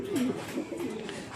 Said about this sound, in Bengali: দেখো আমার বিডি রেসার পায়রা